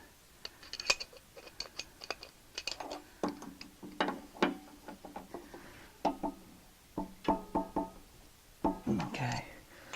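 A socket wrench tightening the nut of a water heater element makes quiet, irregular ratcheting clicks in short bursts, close by, with a voice speaking between them.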